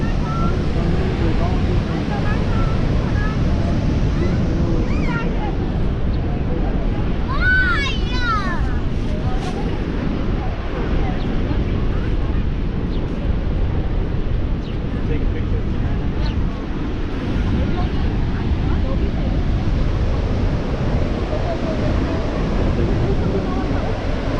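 Niagara Falls, the huge waterfall, gives a steady close roar that fills the whole clip, with broad rushing noise and wind buffeting the microphone. A brief whistle-like tone rises in the middle.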